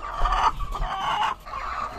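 Egg-laying hens on a farm cluck in a continuous, close run of short calls that briefly dip before resuming.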